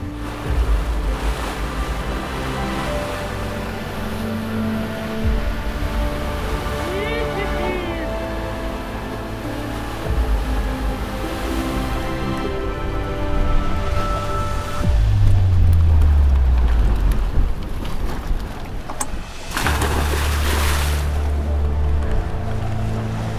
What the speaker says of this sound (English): the wind's just eased up a little bit now from an hour ago